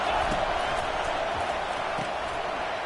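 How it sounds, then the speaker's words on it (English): A college football stadium crowd keeps up a steady, loud roar of broadband noise through the whole stretch, with no clear breaks and only faint bumps and knocks beneath it. "This crowd bringing the energy and noise early."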